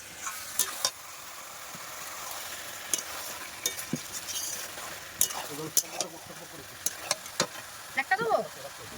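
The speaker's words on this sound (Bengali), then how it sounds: "মাংস দিয়া মাত্রই তেল ছেড়ে দিয়েছে, এত ভালো মাংস কষতে এত ভালো লাগছে" Country chicken meat with the skin on fries in oil in a wok, giving a low sizzle broken by repeated sharp scraping stirs of the pan, with a voice talking faintly in the background.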